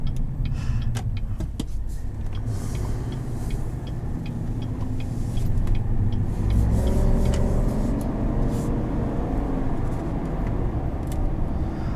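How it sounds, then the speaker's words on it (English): Steady low road rumble of large off-road tires humming inside a moving 2020 GMC Sierra 1500 AT4 pickup, a constant droning roar with faint rattles, no talking. "Even with these big off-road focused tires, tire noise is pretty minimal"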